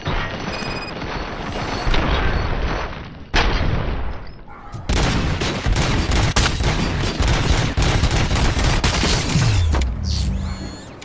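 Gunfire in a RoboCop-style video game: dense, loud volleys of shots and booms in sustained bursts, broken by a short lull, then a final mechanical whir as the firing stops.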